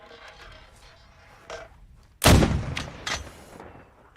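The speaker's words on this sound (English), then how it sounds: "That mortar shell was better." A mortar high-explosive shell striking near the base of a hill in the military game Arma 3, heard as one sharp, loud blast that rolls off into a rumbling tail. Quieter distant thuds come before it and one after.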